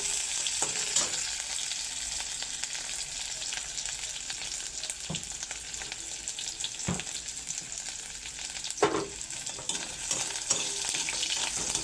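Onions sizzling and frying in a pan for a Bangladeshi bean and dried fish curry, a steady close hiss with a few sharp stirring clatters.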